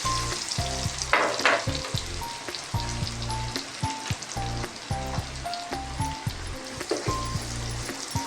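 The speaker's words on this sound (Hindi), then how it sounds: "इसको हमने गोल्डन नहीं करना, हमने इसको बस थोड़ा सा सौते करना है।" Finely chopped onion sautéing lightly in a pan for a home-style guar bean dish: a steady hiss and sizzle with repeated stirring scrapes of a spoon against the pan, close and clear.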